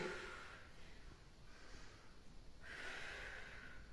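Soft, breathy nasal sniffing and exhaling by children in a physical education class, in a couple of long waves, faint and close, with no talking.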